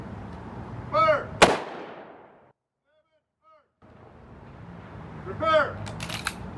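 Ceremonial gun salute at a Remembrance service: a loud, sharp volley cracks out near the middle and rolls off in echo, and a second shot follows toward the end, with commands spoken between them.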